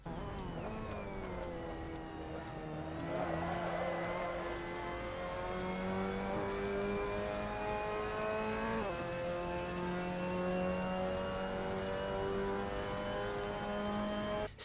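Mazda MX-5 Cup car on the Sebring circuit in Assetto Corsa, its engine droning and rising steadily under acceleration, with a quick upshift partway through before the revs climb again, loud and continuous.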